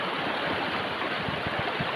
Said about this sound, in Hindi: यहाँ मैया की जल की धारा बहुत अच्छी बह रही है